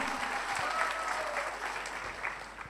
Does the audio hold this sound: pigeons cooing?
no